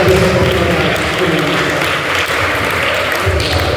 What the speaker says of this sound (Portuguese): Dê uma salva de palmas e glorifica a Deus aqui de igreja